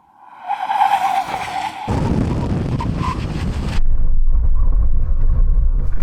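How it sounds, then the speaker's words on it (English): Audi RS6 Performance braking hard from over 100 mph on standard brakes: rising engine and road roar, then a sudden shift to heavy tyre and wind rush as the car slows, and a deeper rumble toward the end. "let's see how good these standard brakes are in a brake test"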